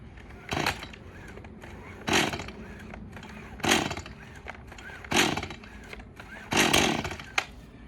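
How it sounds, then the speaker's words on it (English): Five gentle pulls on the starter rope of a Stihl MS 180 C-BE Easy2Start chainsaw, made from a standing position, each give a short rasping whir at regular intervals, and the last one runs slightly longer as the engine sputters. "I'm going to give gentle pulls on the starter rope since this is an Easy2Start model."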